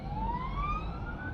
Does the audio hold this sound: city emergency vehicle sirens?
yes